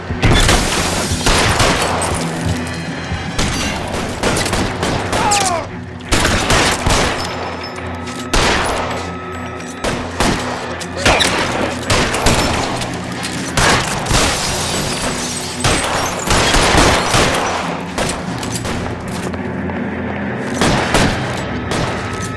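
Heavy sustained gunfire in the L.A. Noire Remastered shootout, dense overlapping shots and booming impacts nearly continuous for over twenty seconds, loud and close with brief shouted voices.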